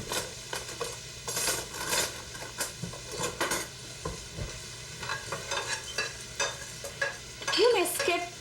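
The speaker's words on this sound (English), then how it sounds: "put in the coriander seeds and the coconut in the pan and just roll it so that" Coriander seeds and coconut roll and rattle in a hot pan as they dry-roast, with repeated scraping strokes and light clinks of a utensil, close and fairly loud, without talk.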